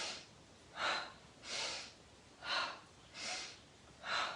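Slow rhythmic yoga breathing, five soft airy exhales out the mouth spaced about a second apart, close and quiet with no talk.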